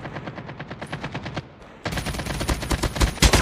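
Rapid automatic bursts from a RUS-79U in Call of Duty Mobile, loud and close, with a short pause near the middle before a denser, harder-hitting stream of shots resumes.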